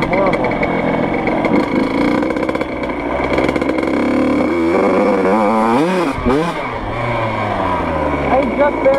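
A 2004 Yamaha YZ 85 dirt bike ridden hard, its two-stroke engine loud and close, revving up and down with sweeping pitch changes, and voices underneath.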